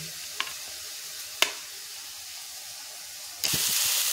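A pan of boiled egg and soaked lentil dish sizzles quietly while being stirred, with two brief utensil knocks before a louder burst of frying hiss takes over near the end.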